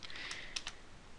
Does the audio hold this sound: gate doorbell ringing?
no